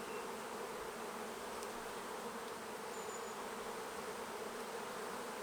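Honey bees hum in a steady, dense drone inside an opened hive box during brood frame inspection, a continuous soft buzz with an occasional louder bee passing close, and no talking.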